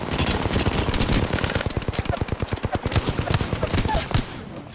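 Sustained machine gun fire in the battle royale game Apex Legends, rapid rhythmic bursts of shots filling the clip, loud and close with dense overlapping reports.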